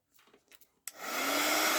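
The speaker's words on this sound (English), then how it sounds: "Might just take the heat gun to here." A few soft handling noises, then a heat gun switches on with a sharp click and blows loudly in a steady rising whoosh, aimed at glue on a bead and postage stamp dangle craft piece.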